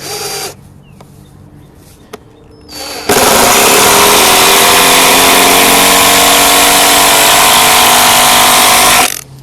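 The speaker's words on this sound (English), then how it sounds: "So I'm really leaning all of my weight onto this drill." A power drill drives screws into wood for a raised garden bed, a loud, close, continuous motor whine and grinding that runs unbroken for about six seconds after a few light knocks.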